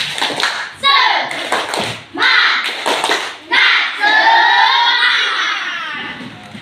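A school class does a rhythmic clapping chant, with bursts of claps alternating with loud chanted children's voices in a regular pattern, close and lively.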